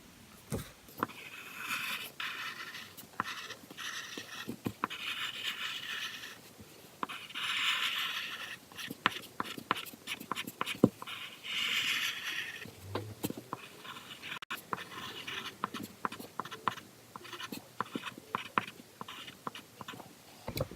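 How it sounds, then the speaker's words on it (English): Dark 8B pencil drawing and colouring on paper, soft intermittent scratchy strokes and scribbling taps in a quiet room, close and faint, with short bursts of rapid shading. "go around the edge of the drawing, again in a darker pencil, just to make it stand out"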